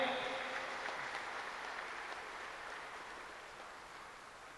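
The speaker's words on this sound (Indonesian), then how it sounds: "Mari kita sambut dengan tepuk tangan yang meriah." A crowd at a large outdoor village-guard assembly applauds to welcome an official guest, a faint, continuous wash of distant clapping that slowly fades.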